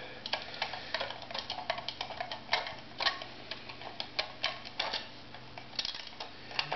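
Small screw being unscrewed from the metal plate of a GEC Gecophone Junior intercom telephone, a close series of light ticking clicks in an irregular rhythm, quiet and alone.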